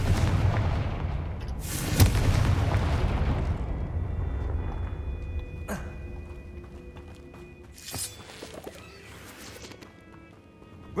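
Confringo fire-blast spell in the Hogwarts Legacy video game, a sharp explosive burst followed by rumbling impacts and crackling debris under game ambience.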